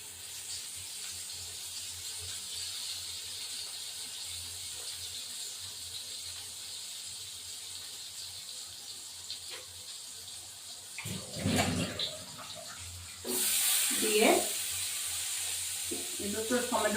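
Tomatoes and green chillies frying in oil, giving a steady hiss that gets louder and splashier as they go into the pan near the end.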